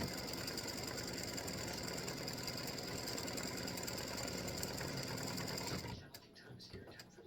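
An embroidery machine stitching freestanding lace acorn earrings runs with a loud, steady, rapid mechanical whir and needle clatter for about six seconds, then cuts off, leaving faint clicks.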